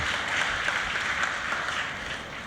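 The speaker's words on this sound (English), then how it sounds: "Clap your hands right there" A congregation claps hands during a talk on Black philanthropy, a dense wash of applause at moderate volume that holds steady and tapers slightly toward the end, with no voices over it.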